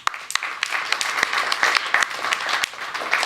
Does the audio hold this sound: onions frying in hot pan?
no